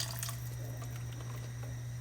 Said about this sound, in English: now I'm just going to pour more broth on that